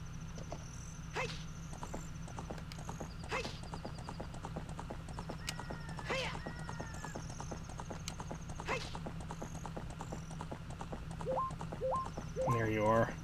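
In Ocarina of Time, a horse's hooves clip-clop in a steady, rhythmic gallop, joined by a neigh near the end, over a low game background hum.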